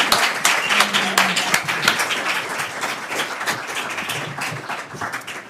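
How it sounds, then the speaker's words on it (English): Audience applause for a panel discussion on women's basketball in Iowa, a dense steady patter of many clapping hands that holds for several seconds, with a few stray voices audible beneath. "Let's give a round of applause to our panelists today."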